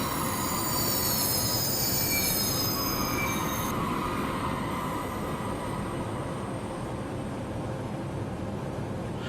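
A locomotive running in Train Simulator 2016 on the Munich–Garmisch line, a steady loud rolling rumble with high metallic wheel squeal fading out early on.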